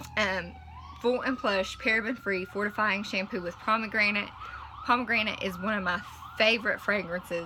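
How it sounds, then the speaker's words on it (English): Emergency vehicle sirens wail faintly outside, their rising and falling tones running beneath steady indoor talk throughout. "Got some sirens going on outside."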